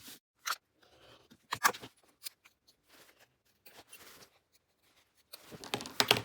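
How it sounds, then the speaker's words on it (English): Scissors snip into the fabric corners of a welt-style slip pocket. A handful of short, crisp cuts come at irregular intervals, close and quiet, with no speech. "When you're making your snips into the corner, you want to get as close to the corner as you can without cutting through any of your stitches."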